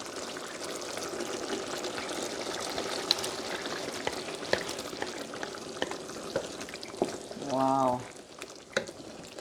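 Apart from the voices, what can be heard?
shrimp being added to a pan and frying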